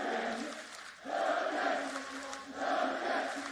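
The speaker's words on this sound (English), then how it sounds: "Crowd erupts as support." Crowd cheering and roaring at a Valorant esports match between DRX and Fnatic, a sustained swell of voices that dips briefly and then surges again, with a caster's voice riding over the noise.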